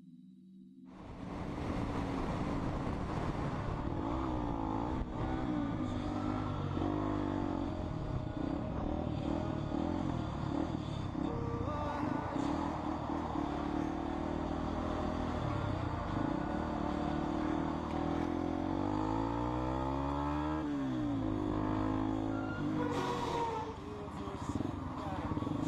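A car pursues a fleeing motorcyclist on a road, with a steady roaring engine drone and rising and falling pitch sweeps as the vehicles accelerate, loud and continuous under a narrating voice.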